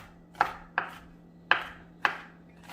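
A knife chops vegetables for pico de gallo on a cutting board in a home kitchen: five sharp, evenly spaced board knocks, close and clear, with no voices.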